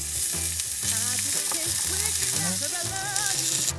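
Burgers, tomatoes and halloumi sizzle and crackle steadily in a hot pan while camping, a loud continuous frying noise with music playing in the background.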